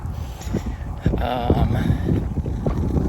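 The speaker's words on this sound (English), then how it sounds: "it is fairly windy, as I'm sure you can hear" Gusty wind buffets the microphone with a low, rumbling roar that rises and falls continuously, with no clear talking.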